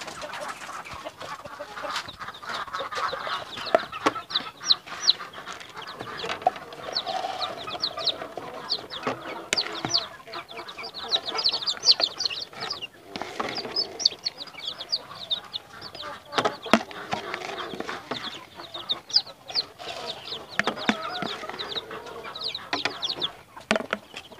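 Young chicks raised without a mother hen cheep and cluck continuously while being fed after being moved to a new spot, a busy, overlapping chorus of small calls heard close up with little other sound.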